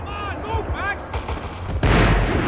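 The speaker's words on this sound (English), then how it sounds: "The bullets came from long range." Long-range gunfire in the Max Payne 3 video game comes as a few booming shots and cracks mixed with game sound effects, ending in a louder, denser burst of noise.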